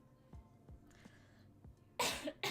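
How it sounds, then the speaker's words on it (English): A livestreamer coughs several times in quick succession, with short throaty bursts close to the mic, then a harsher, louder pair of coughs near the end, alone without talk. "I'm sorry I keep coughing."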